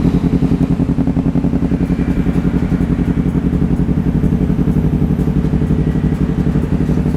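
A motorcycle engine fitted with a Rapid Bike tuning module, already warmed up, runs loud and close, holding a steady rapid throbbing rev with mechanical clatter and no pauses.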